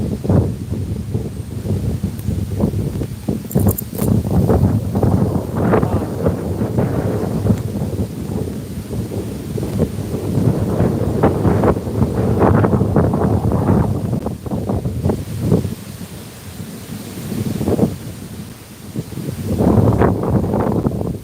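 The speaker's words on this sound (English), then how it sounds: "I'm so sorry guys about the wind." Strong wind buffets the microphone during a forest walk, loud low rumbling gusts that surge and fade unevenly throughout, with a faint rustle behind them.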